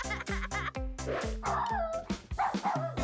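A cartoon dog in the Toca Boca video game lets out a rapid series of short yips and barks, some whimpering, layered over rhythmic background game music.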